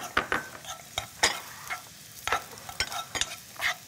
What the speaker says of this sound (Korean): 당근 그리고 표고 좀 볶으면 쫄깃해지죠